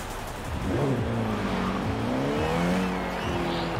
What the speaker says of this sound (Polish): Grzecho, posłuchaj teraz jak to brzmi. Ja ci mówiłem, że fajnie brzmią te... te silniczki